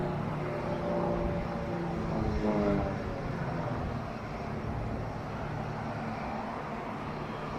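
A Falcons aerobatic display jet sweeps past at the Royal International Air Tattoo 2023, a loud continuous roar whose pitch bends as it passes overhead midway, then steadies into a sustained, distant engine drone.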